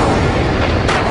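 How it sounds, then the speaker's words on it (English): A volcanic explosion from the Santorini eruption rendered as a deep, loud, rumbling boom that fills the short moment with heavy low-end roar. "the Greek island of Santorini experienced one of the most devastating volcanic explosions"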